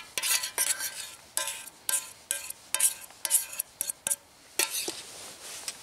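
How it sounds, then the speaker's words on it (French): Spoon stirring pasta with beaten eggs and parmesan in a metal pot outdoors on a bivouac, a series of scraping, clinking strokes in an uneven rhythm, close and fairly loud. "Et là, il faut touiller."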